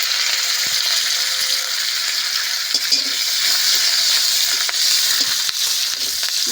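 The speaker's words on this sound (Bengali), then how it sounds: "মশলাটা একটু ভেজে নেব" Chopped ginger, green chili and spices fry in oil in a pan, a loud steady hiss and sizzle up close with occasional stirring scrapes and soft knocks, no voices.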